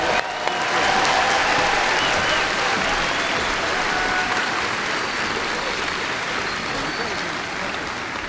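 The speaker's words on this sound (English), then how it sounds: "Let's give them a round of applause." A large crowd at a 2018 high school graduation ceremony applauds the valedictorians, with loud, steady, sustained clapping that fills the space throughout, mixed with some cheering.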